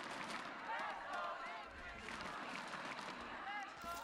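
An esports arena crowd cheers for a Brazilian team in a Game Changers championship match, a loud, sustained roar of voices with rising chant-like swells.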